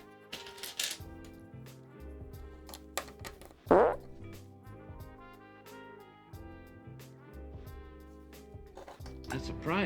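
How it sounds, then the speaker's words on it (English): A fart sound alert plays on a live stream: one loud, short burst stands out over a busy background of music and clicking noises. "And another fart!"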